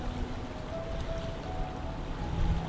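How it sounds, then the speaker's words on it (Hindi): Small waterfalls feeding into a lake, heard as a steady, soft wash of flowing water in a calm outdoor setting, with no voices. "जैसे जैसे आप आगे बहते हैं, बहते पानी की आवाज़ थोड़ी और साफ सुनाई देने लगती है।"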